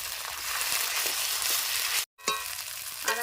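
Ginger and garlic paste fries with onions in a pan for a chicken curry with capsicum. It hisses steadily, there is a brief gap, then stirring clinks and scrapes follow, with no talking.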